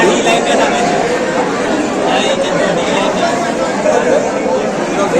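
A dense crowd murmurs steadily in a temple darshan queue, many overlapping voices forming a continuous babble, while a nearby person talks over the hubbub.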